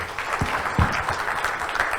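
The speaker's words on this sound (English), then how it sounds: "big applause for IIT Madras" Brief, dense applause from an audience at an IIT Madras colloquium hall, many hands clapping at once and fairly loud throughout.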